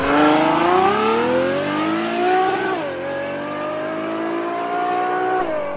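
Ferrari GTC4 Lusso's 6.3-litre V12, the same engine as the FF, revving high with a rising, smooth multi-harmonic wail, dipping briefly and climbing again, loud and close with no talking.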